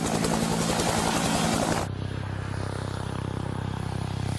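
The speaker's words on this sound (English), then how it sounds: "Often the first thing you hear from a helicopter is the sound of the wake from the main rotor hitting" A helicopter's main rotor thuds in a rapid rhythmic beat under a loud engine roar, then cuts to a smoother, steadier hum.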